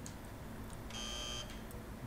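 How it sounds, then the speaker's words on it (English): In the video game Evoland 2, a single electronic buzzer tone sounds for about half a second during a training session, thin and fairly faint over a quiet game background. "When you hear the buzzer, move to the right."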